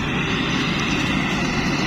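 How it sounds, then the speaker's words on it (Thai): A rice combine harvester's engine drones steadily in a paddy field, a continuous mid-distance mechanical hum with no speech. "รอดูว่ารถเกี่ยวจะขึ้นไหมนะครับ"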